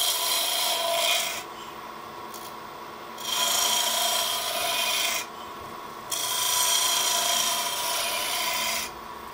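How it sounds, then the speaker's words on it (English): A spindle gouge takes peeling cuts on a wood spindle turning on a lathe, producing loud scraping, shaving hisses in repeated passes separated by short quieter gaps as the tool lifts away. "another great exercise with the spindle is just shoot this up first, and I'll show you. Another peeling cut."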